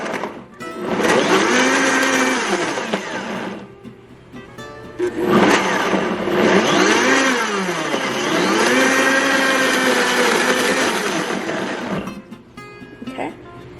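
A kitchen blender grinds fresh green seasoning herbs in short bursts, roaring loud for about three seconds, stopping, then running again for a longer stretch before cutting off.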